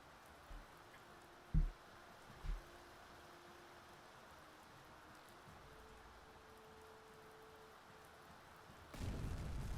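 Torpedoes strike a ship in the submarine game Uboat: three muffled, low booms land in the first few seconds over a steady ocean-like rumble, then a louder, sustained burst of blast noise arrives near the end.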